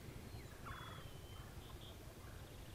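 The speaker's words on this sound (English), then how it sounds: "Hear that turkey gobbling way over to our left." A wild turkey gobbles far off across open woods, faint and distant over a steady low background hiss.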